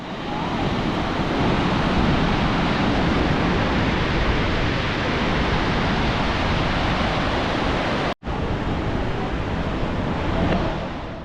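Barachukki waterfall at Sivanasamudra, fast-flowing water roaring in a loud, dense, unbroken rush with a brief dropout near the end.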